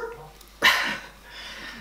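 A single sharp dog bark rings out loud and close indoors in a bedroom, followed by a brief quiet tail and faint background noise.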